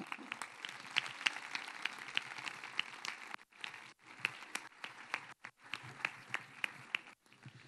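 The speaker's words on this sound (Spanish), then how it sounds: "Y un aplauso para ella." Applause from the audience at a 2021 patronal festival proclamation event, a moderate spread of clapping with crisp individual claps and brief pauses, heard at some distance.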